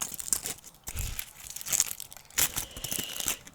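Aluminium foil wrapping a chocolate Easter bunny is torn and crinkled close up, in soft, irregular crackling bursts without talk.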